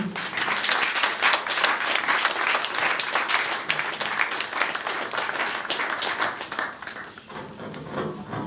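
An audience at an evening talk on school computerization in Congo claps steadily to welcome a speaker, with dense, sustained applause throughout that thins slightly near the end.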